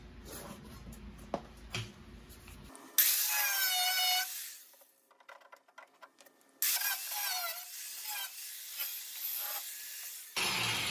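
Power tool cutting out a rusty car body panel, loud rasping bursts of cutting separated by a quieter pause, ending abruptly with a short final burst.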